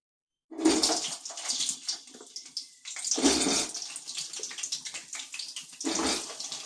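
Potato and elephant foot yam pieces fry in hot oil in a kadai, with three loud sizzling bursts as pieces go in, each settling into a fainter crackle in between.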